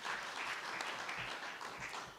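An audience at a stakeholder roadshow claps hands together, a brief dense patter of applause heard at a distance and fairly faint.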